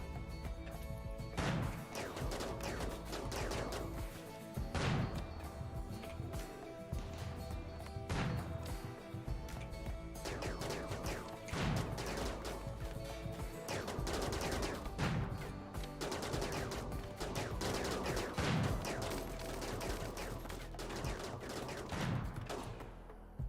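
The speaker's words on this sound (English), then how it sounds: "Gotta love uranium slug turrets. They do" Uranium slug turrets in RimWorld fire steady, punchy rounds of gunfire against oncoming bears, with sharp shots repeating at roughly one-second intervals over a dense layer of continuous battle noise and no voices.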